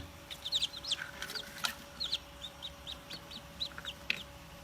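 Newly hatched Leghorn chicks peep inside an egg incubator, a scatter of short, high cheeps repeating irregularly at modest volume over a steady fan hum.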